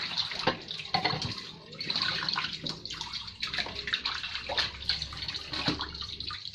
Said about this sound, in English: Now I'm going to wash it with clean water from the sink.